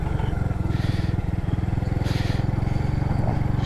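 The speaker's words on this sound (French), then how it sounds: "Je fais une petite balade en moto pour regarder vite fait." Motorcycle ride on a road in Cambodia, with a steady, close engine drone and a rhythmic putter running throughout, plus brief hiss and clatter bursts.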